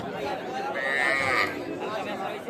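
Cattle lowing amid the chatter of a busy village livestock market where dairy cows with calves are sold, with a drawn-out moo rising near the middle over steady crowd noise and talk.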